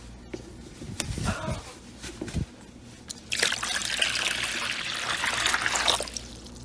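Water pours from a container into a sulcata tortoise's water bowl, starting as uneven trickling splashes with short pauses, then a steadier, louder splashing pour that fades near the end, close by.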